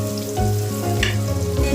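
Tilapia fish head curry with green chili and turmeric sizzles steadily in hot oil in a pan, with scraping stirs breaking through the continuous frying hiss; no voices.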